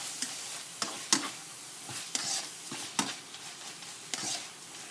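Chicken with holy basil stir-frying in a pan makes a quiet, close sizzle broken by sharp clicks of a spatula scraping the pan every half second or so.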